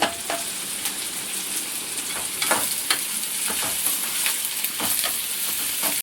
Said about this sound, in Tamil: பாருங்க, சும்மா வதக்கி விட்டாச்சு. அந்த ஆனியன் ஸ்மெல் அப்படியே இருக்கணும்.